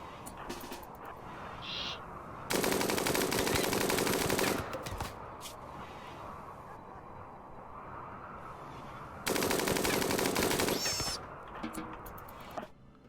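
Video game gunfire aimed at a raccoon comes as two loud, sustained bursts of rapid shots, each lasting about two seconds, over a constant background of game ambience and music.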